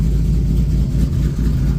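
Jeep SRT8 fitted with Kooks headers and a Solo Performance exhaust, a loud, deep engine roar held steady for under two seconds with no voices.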